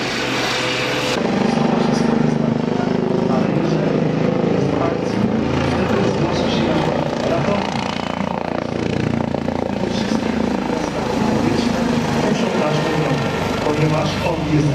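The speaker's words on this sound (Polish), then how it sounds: "Teraz śmigłowiec prezentuje się nam do fotografii." A Eurocopter EC135 helicopter's rotor thrum fills the air, loud and steady, with someone speaking over the noise.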